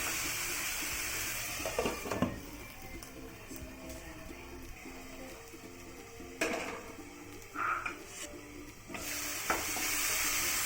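Tomatoes sautéing in a pan for beetroot chutney, a steady soft sizzle running throughout with occasional clinks and stirring scrapes, close by and moderately quiet.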